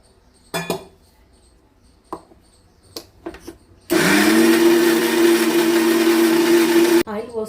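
A mixer grinder struggles on a thick, stiff paste for stuffed brinjal curry, roaring loudly and steadily for about three seconds, then cutting off abruptly; a few clinks and knocks come before it.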